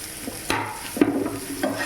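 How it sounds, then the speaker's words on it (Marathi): Garlic frying in oil for a restaurant-style paneer chilli, a soft steady sizzle broken by a few sharp stirring scrapes in the pan. "त्याला थोडा वेळ फ्राय होऊ देऊया"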